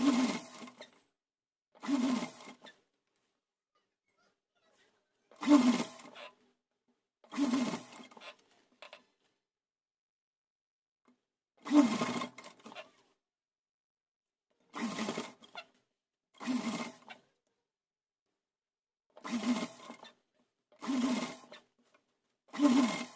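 A sewing machine stitches a tuck along the reverse side of fabric for a saree-style outfit, running in about nine separate short bursts of fast mechanical whirring with silent pauses between them, close and with no talk.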